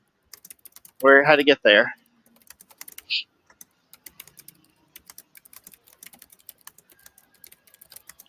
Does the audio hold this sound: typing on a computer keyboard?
yes